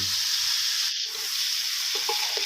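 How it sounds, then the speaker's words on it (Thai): Chicken fried rice stir-fried in a pan over high heat, giving a steady loud sizzle and hiss throughout with light scraping stirs, no voices. "แล้วก็ผัดคลุกเคล้าให้ทั่วเลยนะครับผม"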